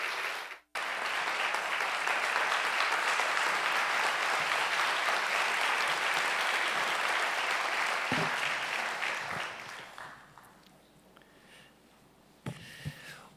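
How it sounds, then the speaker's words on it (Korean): Sustained audience applause at a university president's farewell and inauguration ceremony, loud and steady for about nine seconds before tapering into a quiet room with a few scattered claps and rustles. "큰 박수로 환영해 주시기 바랍니다."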